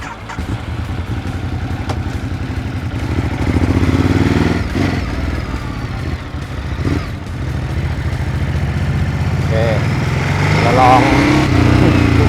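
A 2019 Ducati Hypermotard 939 L-twin engine runs steadily on a test ride, loud and close, its pitch rising with throttle and riding under continuous speech.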